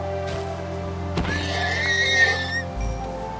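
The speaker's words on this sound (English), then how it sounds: "Horse? Horse give leather." A horse in Minecraft lets out a single whinny, a rising and wavering neigh heard close and clear over a low game background hum.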